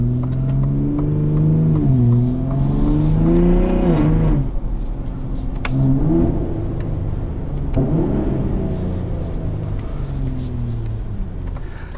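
A 2022 Ford F-150 Raptor pickup truck's engine revs up and down several times, its deep growl rising and falling close by, with no talking.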